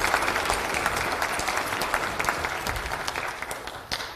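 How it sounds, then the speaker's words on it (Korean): Steady, dense applause from a sizable crowd at a South Korean People Power Party political event, sustained throughout with a slight fade toward the end. "큰 박수"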